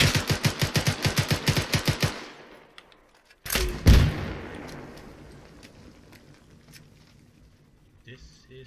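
Rapid bursts of automatic gunfire crack out in a multiplayer military video game, a tight rhythmic string of shots, then a loud explosion booms and rumbles away, with faint distant shots trailing after.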